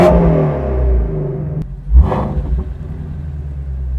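A Ford Mustang Shelby GT350R engine idles with a deep, steady rumble, then gives one sharp, loud rev blip near the middle before settling back to a throaty idle close by.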